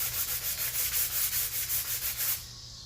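Quick hand sanding of a small handmade piece, about a dozen brisk rhythmic rasping strokes close by, stopping abruptly near the end.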